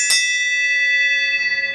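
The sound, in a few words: ringing a dinner bell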